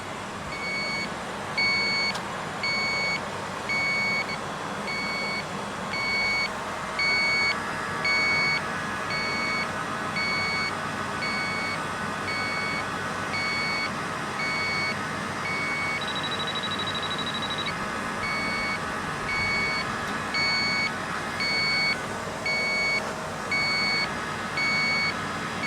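An electronic refrigerant leak detector gives faint, steady, evenly spaced high beeps on a windy day near a cooler's micro-channel coil, with wind and outdoor rumble underneath and no speech.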